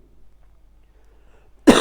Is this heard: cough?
yes